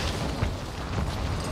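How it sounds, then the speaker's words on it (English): An airstrike in the video game Warzone 3 sets off a deep, rumbling explosion with a few heavier bursts breaking through a steady roar, heard without speech. "Oh no, airstrike."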